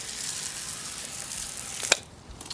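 Water sprays steadily in a broad hiss onto car wheels being rinsed before Plasti Dip, with a brief sharp splash near the end before the flow eases off.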